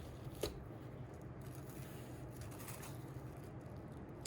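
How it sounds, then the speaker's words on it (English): Interfacing fabric being folded off the bolt, soft papery rustling and flapping with a sharp crisp snap near the start, close but faint, no voices. "I'm just going to fold this right off the bolt here so I can get a fold"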